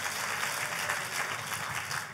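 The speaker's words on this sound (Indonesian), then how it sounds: "Kita kasih tepuk tangan yang paling meriah buat Tuhan kita." A church congregation applauds during a sermon, producing an even, sustained wash of many hands clapping at once, moderately loud and without voices on top.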